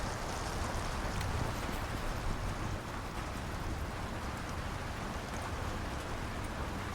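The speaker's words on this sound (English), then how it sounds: "It's stormy out there." Heavy stormy rain pours steadily in the video game Icarus, a dense, continuous rushing wash that stays loud and even throughout with no voices.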